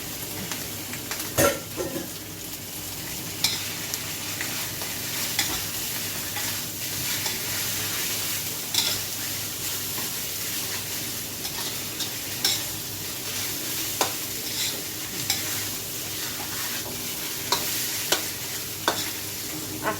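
Fish stir-fried in a hot pan for a Thai spicy stir-fry, a constant loud sizzle with repeated scraping and clinks of a utensil against the pan, no voices.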